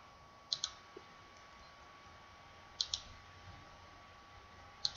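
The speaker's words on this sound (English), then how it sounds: "Come on, I'm clicking things." Sharp mouse clicks sound in pairs about every two seconds during a Minecraft session on PC, close up over a steady low hum with no voices.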